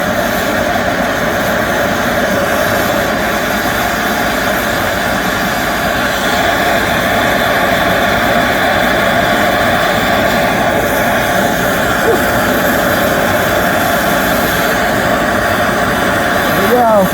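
A gas torch roars steadily and loudly at close range as it heats the ends of a six-strand counterclockwise twisted copper armring to fuse them, a continuous rushing hiss with no break.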